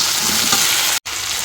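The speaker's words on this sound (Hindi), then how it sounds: "तो फिर मैं डालती हूँ इसमें बैगन" Eggplant pieces dropped into a pan of potatoes already frying in oil give a steady, loud sizzle that fills the whole stretch, with only a brief dropout near the middle before the frying continues.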